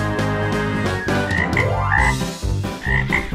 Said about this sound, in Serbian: Ovo nije patka. ovo je žaba.